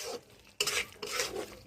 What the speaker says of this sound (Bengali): ফুলকপিটা দিয়ে আমি একটু নাড়াচাড়া করে নেব।